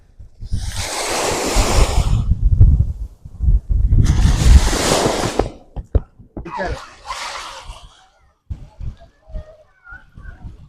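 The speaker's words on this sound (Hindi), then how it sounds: "समंदर की लहरें आपको मुतवज्जा करती हैं" Sea waves at Korian Beach in Karachi, where broad surges of surf wash in twice in loud rushing swells, followed by quieter splashing and wind buffeting the microphone.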